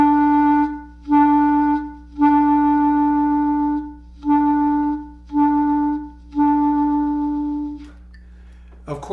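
A clarinet-type reed instrument plays six detached staccato notes on one pitch, each cut off abruptly by the tongue, with short even gaps; close and clear, no talking.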